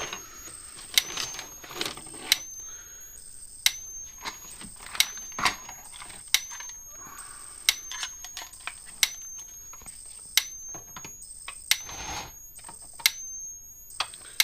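A Gallagher electric fence energizer, converted from an M800 to a B1200 with a 110-volt AC to 12-volt DC transformer setup, snaps out sharp, regular sparks, about one per second, each crack loud and close over a faint electrical whine.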